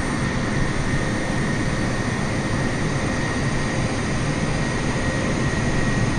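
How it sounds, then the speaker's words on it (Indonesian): Garuda Indonesia airliner in Microsoft Flight Simulator turning toward the runway at Madrid, a loud, steady broadband jet engine roar with a constant whine, unbroken and without talk. "pesawat kita sudah siap-siap untuk berputar menuju runway"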